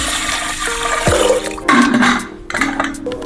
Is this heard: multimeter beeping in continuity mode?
no